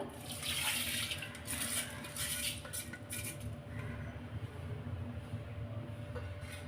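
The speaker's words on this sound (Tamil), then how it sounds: "அடுத்ததாக ரெண்டு கப் தண்ணி சேர்க்குறேன்" Water being poured into a pressure cooker holding soaked green gram while making a green gram kulambu; a steady, close running-water rush under a faint low hum, loudest at the start and easing slightly.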